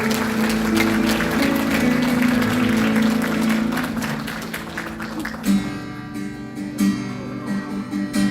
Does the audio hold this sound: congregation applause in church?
yes